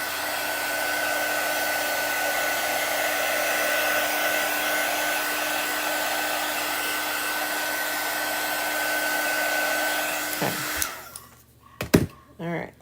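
A hair dryer on its cool setting blows steadily at close range while drying chalk paste on a craft project, running for about ten seconds before clicking off and leaving a few soft handling sounds.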